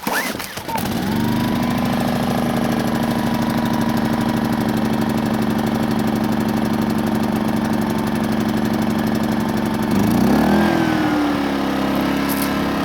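A small engine on a water pump station idles steadily while warming up after a cold start, a constant close mid-pitched drone with a slight shift in tone near the end.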